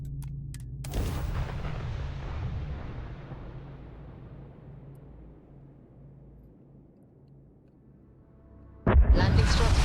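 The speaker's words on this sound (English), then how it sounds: "Retros firing." Spaceship retro thrusters in Starfield fire during landing: a sharp burst followed by a long, deep roaring rumble that slowly fades, then a loud new blast at the end, with talk in the background.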